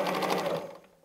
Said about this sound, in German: Wir nähen ein Stück geradeaus